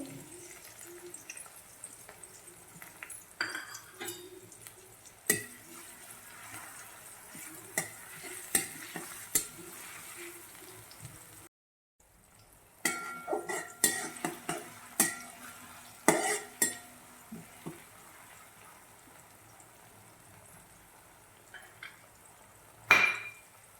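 Tomato is stirred into a pan of frying vegetables. A quiet, low sizzle sits under repeated spoon scrapes and clinks against the pan, with a short silent gap midway and no voices.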